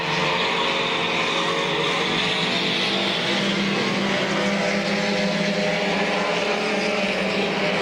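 Compact race cars run laps at Midvale Speedway, a dense continuous roar of several engines heard from trackside at moderate distance, steady without breaks.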